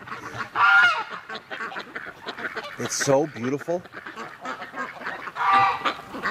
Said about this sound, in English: listening to these awesome ducks just losing it